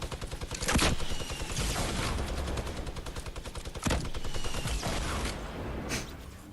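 Rapid, sustained minigun fire from a video game rattles almost continuously for several seconds, loud and close, with brief louder bursts and no talk over it.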